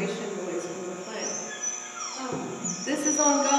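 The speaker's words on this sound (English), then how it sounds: "That's my dog screaming in pain because he can't stand that vibration noise from the plant." A dog whimpers and yelps in pain from a plant's vibration noise, high-pitched cries rising and falling over a steady mechanical hum.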